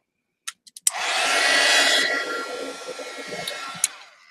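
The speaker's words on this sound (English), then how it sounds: "Need to dry this a little more because it's still wet." A hair dryer blows hot air across a wet art journal page, starting abruptly after a few small clicks and running as a loud, steady broadband whoosh that eases slightly before a final click near the end.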